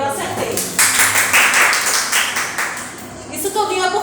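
Students in a history class clap together, a dense, fairly close patter of hands that builds quickly and holds for about three seconds while a voice talks over it.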